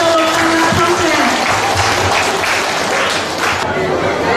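Loud, dense applause from an audience at an evening ceremony, a sustained wash of many hands clapping that continues steadily throughout.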